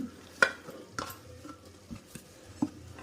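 Carrots, green peas, beans and potatoes are added to a pot of biryani and stirred: a few soft clinks and scrapes of a spoon against the pot, with a low, quiet kitchen hush in between.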